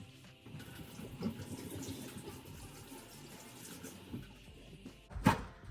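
A kitchen faucet runs steadily at moderate distance as someone washes sticky molasses off their hands, with a sharper splash or clatter near the end.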